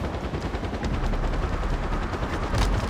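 Rapid automatic gunfire from a Far Cry 4 firefight rattles in a continuous, loud, close barrage. The shots run in dense bursts with no talking.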